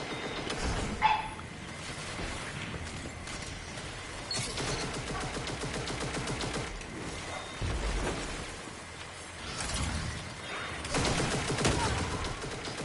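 Automatic gunfire in an online shooter video game, with bursts of rapid shots in quick clusters separated by short gaps and one sharper crack near the start, loud and close, with occasional player voices.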